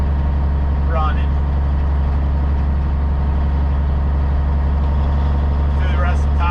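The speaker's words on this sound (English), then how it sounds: "That way you can listen to the truck" Kenworth K100E Aerodyne cabover truck with a low-voltage fault, its engine droning steadily and loud from inside the cab, with brief chirps and someone speaking over it.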